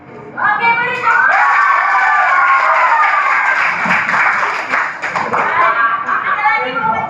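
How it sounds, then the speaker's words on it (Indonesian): A classroom audience bursts into sustained applause after a short guitar demonstration, dense clapping from many hands filling the room for several seconds, with some shouts and chatter mixed in. "Oke, beri tepuk."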